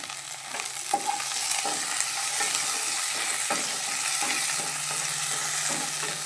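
Curry leaves hit a hot pan for a prawn and drumstick curry, crackling and sizzling steadily while a utensil stirs in a series of scraping strokes; no one talks.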